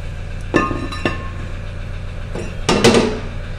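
A brake disc comes off the rear wheel hub of a Golf, Audi or Skoda: a few sharp metallic clinks close by, then a louder clattering knock of metal near the end.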